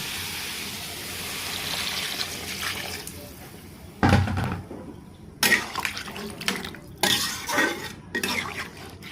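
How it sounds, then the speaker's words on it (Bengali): Water is poured into a pan of radish and fresh river prawns being cooked: a splashing, trickling pour followed by several clinks and splashes in uneven bursts, moderately close, with quiet background sound before it. "পরিমাণ মতো পানি দিয়ে দেবো"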